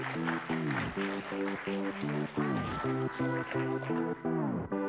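Applause for a middle school prize winner at a competition final, the clapping steady and continuous beneath a loud, sustained musical tune with a strong repeating rhythm.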